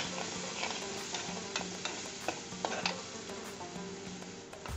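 Garlic and ginger sizzle steadily in a hot pan for rajma, with a spoon scraping and stirring now and then, close and continuous.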